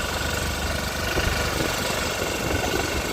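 A mini tractor engine for sugarcane fields runs steadily nearby, a continuous rough knocking idle rumble with a broad mechanical hiss and no talk.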